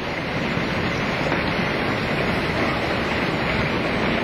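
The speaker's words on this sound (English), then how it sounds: "I have never seen such a hailstorm in my life." A heavy hailstorm pelts down in a dense, steady roar of countless impacts. The noise is loud and continuous, with no voices.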